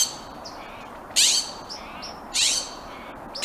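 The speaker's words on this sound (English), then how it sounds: "We've also got another bird returning the call in there." Two bright, bursting bird calls ring out a second apart, with a softer chirp answering in between, against quiet outdoor background hiss.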